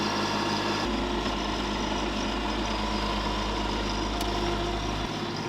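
A tractor engine digging out an opening beside a house, running as a steady, loud low rumble that holds nearly constant throughout.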